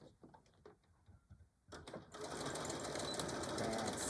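A sewing machine stitching a tool carry bag: a few scattered clicks and handling noises, then the motor starts and runs in a steady, loud, rapid stitching whir to the end.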